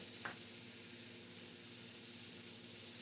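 Shrimp sear in garlic butter sauce in a hot pan, giving off a steady, close, even sizzle that holds without a break and has no talk over it.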